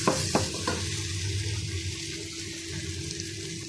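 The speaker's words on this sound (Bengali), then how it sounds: "এখন মিষ্টি কুমড়া ভাজি বসিয়ে দেব। টমেটো কাঁচামরিচ দিয়ে দিলাম।" Sweet pumpkin frying with onions, tomato and green chili in a pan, a close, loud sizzle with a few scraping stirs at the start before settling into steady crackling.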